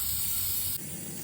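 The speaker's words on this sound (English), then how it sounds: "So let's get to spray painting." A close, continuous hiss of aerosol spray paint on craft foam that cuts off abruptly partway through, leaving a quieter background hum.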